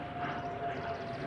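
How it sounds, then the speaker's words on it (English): An airplane passing overhead above a garden gives a steady, distant engine drone that holds level throughout. "Sorry about the plane."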